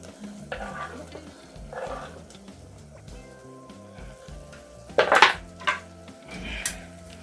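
Spicy fish fillet frying in a pan, a soft sizzle under repeated utensil scrapes and stirring, with a louder clatter of metal against the pan in the middle before the frying settles again.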